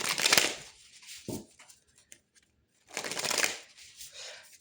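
Tarot cards shuffled by hand in two close, crisp riffling bursts separated by a short quiet gap, with lighter card handling and soft taps in between and no talk.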